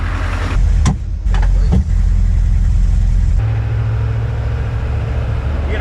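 A military Humvee that sat for years is started and left running to warm up, a loud close low engine rumble that steadies after a couple of brief bursts early on, alone without talk.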